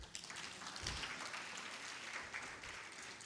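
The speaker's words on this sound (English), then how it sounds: "So you clap for Migori." Audience applause at an HIV service delivery integration summit session, a steady wash of many hands clapping that stays fairly faint and distant throughout.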